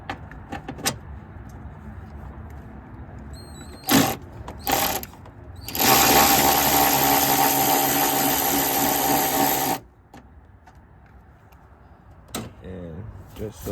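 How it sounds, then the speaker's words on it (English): A ratchet with an extension works the last motor mount bolt loose on a GMC Arcadia, giving a loud, continuous mechanical rasp of about four seconds, with scattered clicks and knocks around it. "Now for the last bolt, I had to put an extension on the ratchet."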